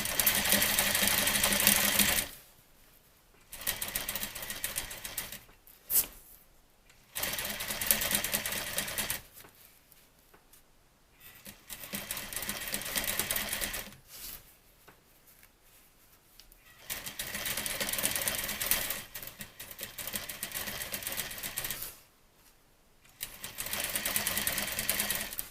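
Sewing machine stitching through drapery lining and face fabric for swag tails, running in several bursts of steady whirring separated by short pauses, close and clear with no talk.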